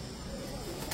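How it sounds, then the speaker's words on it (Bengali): A racer pigeon coos softly at close range in one brief low call over a steady background hum. "এটা রেসার কবুতর ভাই।"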